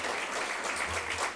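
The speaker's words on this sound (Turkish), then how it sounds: "Yeni Medya Kulübü'ne de bir alkış istiyorum" A steady wash of applause from a university faculty audience, dense and continuous throughout the short moment without a clear break.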